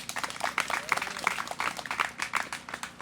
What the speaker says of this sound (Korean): 소수미 감사님께 다시 한번 박수 부탁드립니다